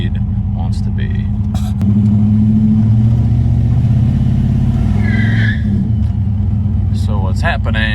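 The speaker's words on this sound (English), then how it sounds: "put it in drive, hold my foot on the brake, and then add power to it and see where the stall speed wants to be" A turbocharged Dodge Diplomat engine revs loud and sustained in drive against the brake during a stall speed test, a deep droning rumble climbing in pitch, with people talking over it and occasional squeaks.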